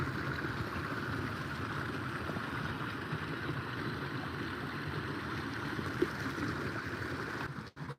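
Stream water flowing under a footpath near a pond and waterfall at Dimmingsdale, a steady broadband rush that holds unchanged throughout, with some wind noise on the microphone and a brief dropout at the very end.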